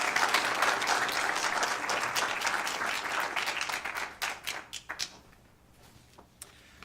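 Audience at a Federal Way city council regular meeting applauds with steady, dense clapping that thins into scattered individual claps and then stops, leaving a near-silent room with one last clap.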